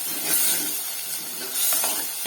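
Ground tomato paste hits a hot pan with a steady, hissing sizzle that swells and fades in short bursts, close and moderately loud, with no talking.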